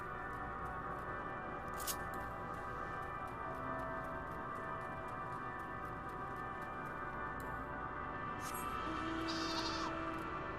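Sheep bleat faintly in the video game Final Fantasy XIV. A few short calls rise over a steady ambient hum and soft background tones, distant and quiet, with no speech.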